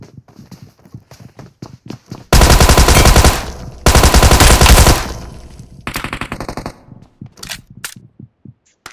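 Sustained bursts of rapid automatic gunfire from a video game, loud and dense, in two long volleys separated by a short gap, with quieter clicks and game sounds before and after.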